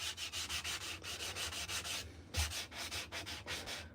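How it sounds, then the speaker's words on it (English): Hand-sanding a hand-carved wooden spoon, a close, quiet series of rhythmic rasping strokes, roughly four per second, with a brief pause in the middle before the scrubbing resumes. "the deeper you sand it"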